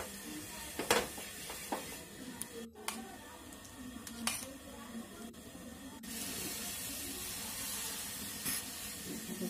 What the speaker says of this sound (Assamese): তাৱাখন গৰম হোৱাৰ লগে লগে এনেকৈ পানী অলপ ছেটিয়াই